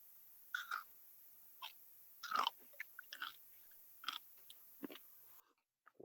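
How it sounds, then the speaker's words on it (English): Crunchy food chewed close to the mouth, a series of sharp irregular crunching bites spread over several seconds with brief pauses between, no talking. "That's a good crunch."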